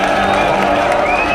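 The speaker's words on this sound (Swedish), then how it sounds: "Med jubel." A crowd erupts in a brief burst of cheering and whooping at the news that The Pirate Bay is back online, loud and close, with voices mixed into the roar.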